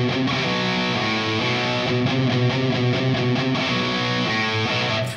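A heavily distorted electric guitar plays a fast, chugging riff, dense and continuous, with the pitch shifting on every other note throughout.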